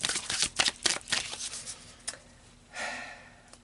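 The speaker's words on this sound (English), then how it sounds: "let's pull some more cards and get some more information" Tarot cards being shuffled close up: a series of quick riffling bursts and soft slaps in an uneven rhythm, fairly quiet, then a brief rustle near the end, no talking.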